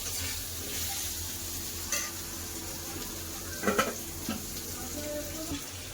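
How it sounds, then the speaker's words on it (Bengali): Potatoes with a little turmeric frying in a pan give a soft, steady sizzle in the background, broken by a few light clinks of utensils and pots nearby. "ওদিকে আলু ভাজাচ্ছে"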